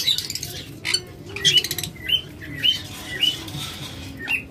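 Pet birds at a bird seller's shop, including high-mutation and albino birds, give short repeated squawks and chirps over a low background hum, with no voices.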